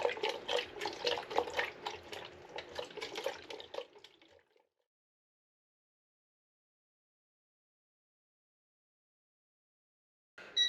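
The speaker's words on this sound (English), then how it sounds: "And I agitate continuously for the first 30 seconds." Liquid sloshes inside a film developing tank as it is agitated continuously while developing Ilford Orthoplus film, a busy rhythmic swishing and rattling for about four seconds before near silence, with a faint sound returning at the very end.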